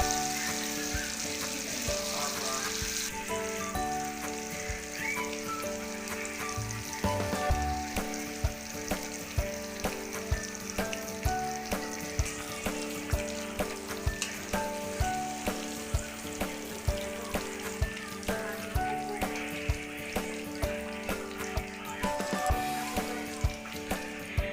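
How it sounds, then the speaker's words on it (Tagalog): Baguio green beans fry in a pan with a continuous close sizzle, broken by regular stirring scrapes and clicks every second or so, with no voices over the cooking. "Half cook lang natin tong Baguio beans."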